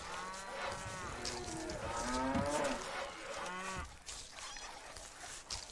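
Cows mooing in the strategy video game Stronghold, several long drawn-out moos overlapping at moderate volume over a low farmyard ambience, fading out after a few seconds.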